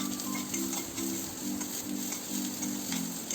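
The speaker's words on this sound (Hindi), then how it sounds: "अब हम इसमें प्याज ऐड करेंगे। हमने यहाँ 1 प्याज को फाइन चॉप किया है। इसको अच्छी तरह सौटे करना है।" Finely chopped onion sautés in a Chinese wok with very little oil while making veg chowmein, a steady close sizzle broken by a regular rhythm of stirring scrapes.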